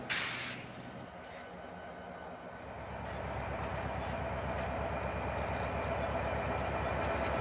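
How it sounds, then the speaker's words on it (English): A green lumber train of the Idaho Northern and Pacific railroad pulls out of Cascade, Idaho behind GP40 diesel locomotives, a sharp hiss at the start giving way to a building rumble with a steady clickety-clack of wheels. "the last green lumber train leaves Cascade at 9:18 a.m. Mountain Daylight Time"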